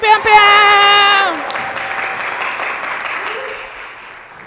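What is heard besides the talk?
audience applause for poet Juan Morales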